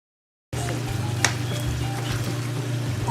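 Onion goes into a hot pan while Filipino chicken adobo cooks, setting off a steady, close sizzle and frying hiss that starts abruptly and holds, with light stirring scrapes and no talking.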